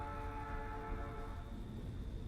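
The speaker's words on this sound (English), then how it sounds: "I didn't realize how much I missed the sound of that train." A passing train in the video game Night in the Woods, a steady horn-like tone with a low rumble underneath, heard alone at moderate, distant volume.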